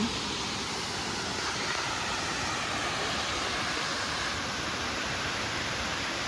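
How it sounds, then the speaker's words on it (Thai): Mae Phun waterfall in Laplae, Uttaradit, pours as a steady, broadband rush of falling water, loud and continuous from start to finish with no voices over it. "น้ำตกแม่พูน จังหวัดอุตรดิตถ์รับแล"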